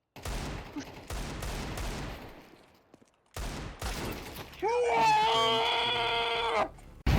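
Gunfire in a Counter-Strike 2 match, a few sharp bursts of shots early on, then a tonal in-game sound, mixed with faint background voices.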